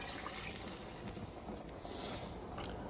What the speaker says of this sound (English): I'm also going to add about 3 cups of water.